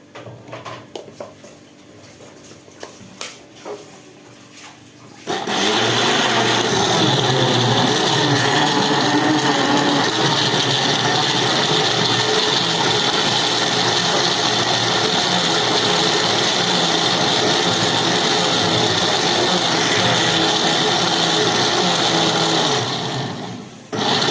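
An electric kitchen blender whirs loudly and steadily for about twenty seconds, mixing sugar and water, after a quieter stretch of small handling clatter.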